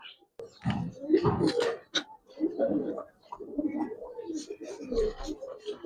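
Large Giribaz pigeons coo in low, throaty bursts close by, the calls broken by short pauses and mixed with a little nearby voice.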